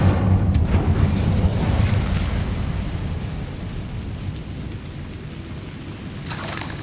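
Incendio fire spell cast in Hogwarts Legacy, a loud roaring whoosh and rumble of flame that slowly fades into a sustained crackling hiss, with a brief bright burst near the end.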